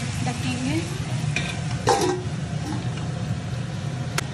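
Tomatoes softening in a pan while a home-style chicken curry cooks, with a low steady sizzle, a few stirring scrapes and brief clinks of a utensil against the pan.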